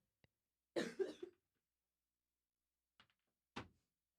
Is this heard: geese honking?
no